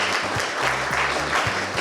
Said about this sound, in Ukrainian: Ось тут стоїть мікрофон, який вловив ваші аплодисменти.